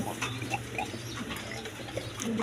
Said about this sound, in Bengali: ডিম বাচ্চা করানো কবুতর, খামারি কবুতর